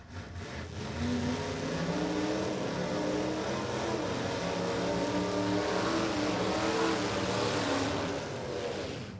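Gasser drag cars race down the strip at Warwick Dragway in Australia with a loud, continuous engine roar that swells quickly, holds steady as a dense rumble, then eases slightly toward the end.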